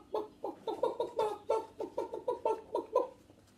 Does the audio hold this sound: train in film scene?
no